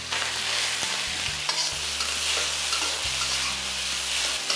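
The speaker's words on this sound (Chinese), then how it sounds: "铁锅烧热，淋入少许的油，把我们的五花肉放进去煸香煸出猪油。" Pork belly sizzles steadily in a little hot oil in a heated iron wok, with a close, continuous crackling hiss and occasional stirring scrapes throughout.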